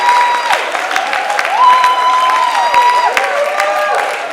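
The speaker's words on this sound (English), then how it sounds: "Keep clapping, keep clapping, keep clapping," Audience clapping at an academic workshop on research writing, steady applause with scattered sharp claps under sustained tonal sounds like cheering voices or whistles, loud and continuous.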